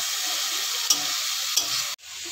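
Finely chopped tomatoes added onto onions sizzle and fry in a pan for pav bhaji, a steady close hiss broken by two brief stirring clinks and a sharp cut near the end.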